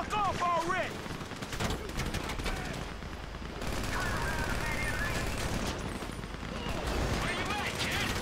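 Gunfire in the video game GTA V, in a city crime setting: near-continuous rattling bursts of automatic shots through most of the clip, loud over background noise, with voices talking among them.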